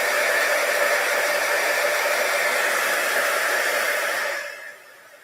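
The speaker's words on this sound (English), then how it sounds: "Let's heat up our heat tool." An embossing heat tool blows hot air in a steady, loud, even whoosh for about four seconds, then cuts off and fades quickly. No one speaks.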